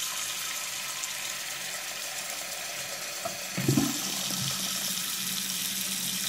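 Water runs steadily into an unclogged bathroom sink with a soft hiss, then a brief gurgling swirl as it drains away, fairly faint and close with no talking.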